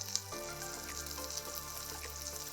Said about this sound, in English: start placing each cube of the paneer and cook it till you get a nice golden brown color